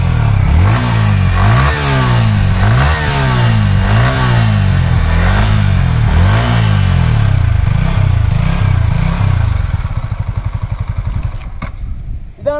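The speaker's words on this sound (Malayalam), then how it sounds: "ഇതാണ് നമ്മുടെ ഒരു വാഹനത്തിലെ എക്സോസ്റ്റ് നോട്ട് എന്ന് പറയുന്നത്" A Yamaha R15M V4 motorcycle engine just started, loud and close, its exhaust note rising and falling in repeated throttle blips before settling into a steady idle and a few final clicks.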